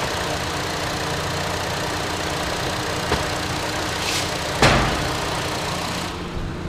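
A 2014 Chevrolet Cruze's 1.4-liter turbo engine idles steadily and smoothly up close, with a couple of brief clicks partway through.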